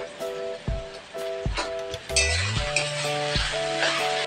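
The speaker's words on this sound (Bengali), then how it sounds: "কচুরলতাটা ভালো করে ভেজে নিয়েছি" Taro stolons (kochur loti) fry in a pan with a steady sizzle, punctuated by repeated scraping stirs and clinks, all under a tonal background.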